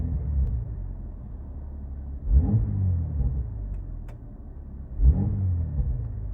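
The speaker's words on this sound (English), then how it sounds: "Should I rev it a little bit? I'll rev it a little bit." A Porsche engine idling with a low rumble, then revved twice in short blips that rise and fall back to idle, close by and fairly loud.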